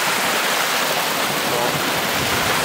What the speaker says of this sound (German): Hier ist auch noch so ein kleiner Fluss.